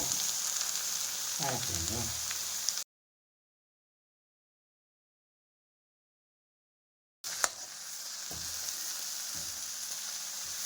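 Moringa leaves sautéing in a pan for a greens kootu, a steady close sizzle with brief stirring scrapes, cut by a long silent gap midway before the frying resumes.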